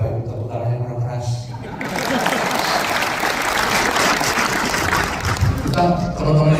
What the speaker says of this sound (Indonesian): Bapak Ibu tepuk tangan yang keras.